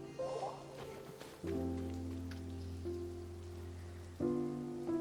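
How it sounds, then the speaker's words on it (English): Rain falling in the Genshin Impact video game, a soft, quiet patter under sustained low game-music tones that shift and swell at a few points, with no voices. "Oh, huh? It's raining!"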